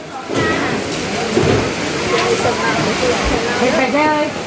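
Heavy rain pours down during a storm, a dense steady roar of water close by, with people talking over it.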